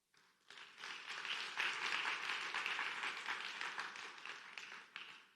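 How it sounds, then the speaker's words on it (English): A conference audience at a hospital technology event breaks into applause, clapping building quickly after a brief pause and holding steady for several seconds before thinning out near the end, somewhat distant and soft. "I believe B&H deserves a big round of applause."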